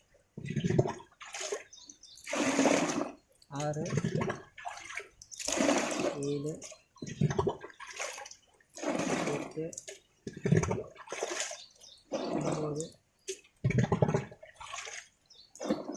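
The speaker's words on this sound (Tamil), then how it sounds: "இன்னும் அஞ்சு டப்பா தண்ணி ஊற்றிடுவோம்" Water is poured from cans onto soil in a maize field in repeated splashing bursts with short pauses between them, while a voice counts along.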